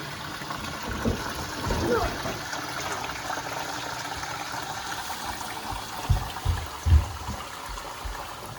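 Pork broth is worked through a strainer into a bucket, giving a soft continuous trickle and slosh with a few dull thumps and knocks near the end, alongside low muffled voices.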